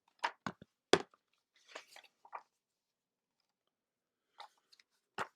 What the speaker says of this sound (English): He's chewing there with his mouth open.